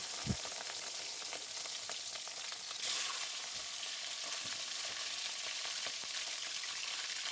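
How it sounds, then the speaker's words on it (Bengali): Salted chicken pieces for a roast frying in hot oil, a steady, close sizzle that continues throughout, broken by a few soft knocks and a brief stirring swell partway through. "রোস্টের মুরগিগুলো আমি লবণ দিয়ে মাখিয়ে রেখেছিলাম এখন আস্তে আস্তে সবগুলো ভেজে নেব"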